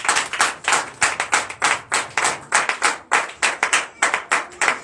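Congregation in church clapping in a steady, brisk rhythm, many hands together loud and close, continuous throughout with no speech.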